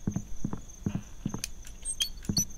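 Cricket chirps from the horror video game Knock-knock come in evenly spaced pulses about every half second, joined by a few sharp higher ticks over a thin steady background tone, with no speech.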